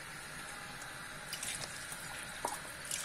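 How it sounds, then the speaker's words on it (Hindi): Water being poured into pan-roasted gram flour while making kadhi in a home kitchen, a steady faint splashing trickle with a few small drips, no voices. "अब मैं इसमें डाल रही हूँ पानी।"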